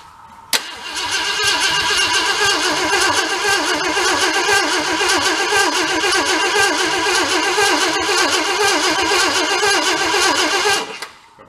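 A 1966 Ford Galaxie engine cranks and catches, then runs at a steady, loud, close idle for about ten seconds before abruptly cutting off.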